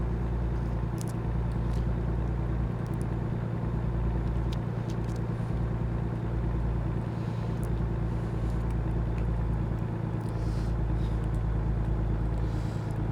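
A truck engine in American Truck Simulator drones steadily at low pitch as the truck drives, an even, continuous rumble with no voices.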